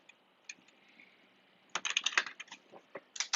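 Someone types on a computer keyboard: a few isolated key taps, then a quick burst of rapid clicking keystrokes and a final flurry, close and fairly quiet, with no voice.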